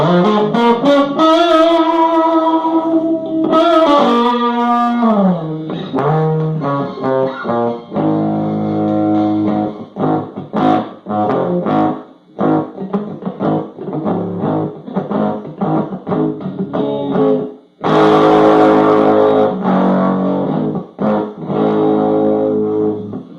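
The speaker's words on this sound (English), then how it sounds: "fuzzy, distorted sound if you want." Westbury solid-state guitar amp turned up loud, played with thick fuzzy distortion: sustained chords and choppy riffs, then a burst of dense distorted strumming near the end, with no talking.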